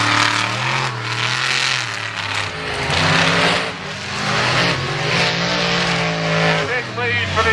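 Monster trucks Grinder and Instigator racing around a track, engines roaring and revving loudly with rising and falling pitch and some tire squeal, while an announcer talks over the din.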